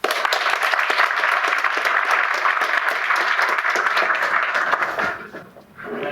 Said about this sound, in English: I want everybody to give a round of applause for Eric Enge